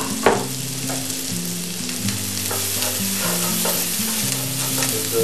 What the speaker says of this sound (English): I like to add the peppers in about the same time I'm sauteing the onions and celery